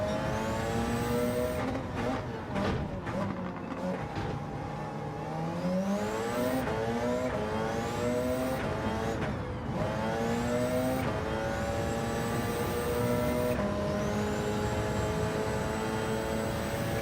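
Group C race car in Gran Turismo 7 holding a steady engine drone with rising and falling pitch through gear changes and lifts, loud and continuous with no talk over it.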